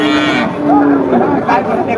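A cow lets out a low, drawn-out moo over a busy crowd of murmuring voices at a cattle market in Chougachha, Jessore, where cows and calves are bought and sold.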